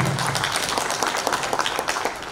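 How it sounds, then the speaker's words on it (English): A seated conference audience applauds panelists at an energy-for-health event, a steady, moderately loud wash of clapping that runs throughout without a break. "Can we please have a round of applause for our panelists?"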